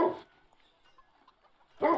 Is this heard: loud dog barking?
yes